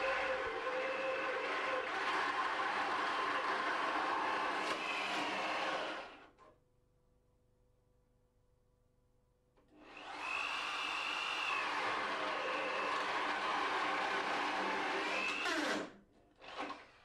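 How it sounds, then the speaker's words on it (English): A power drill driving a flat-bladed wood bit into a wood panel, whirring steadily and loud for about six seconds, pausing, then boring again for a similar stretch before stopping. "With a flat-bladed wood bit, cut 2 holes into the panel"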